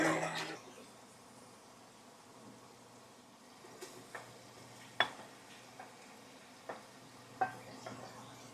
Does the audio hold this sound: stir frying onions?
yes